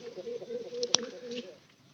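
A pigeon kept in a broken tin-roofed shelter gives soft, low cooing notes, fairly close and quiet, with a sharp click cutting in briefly midway.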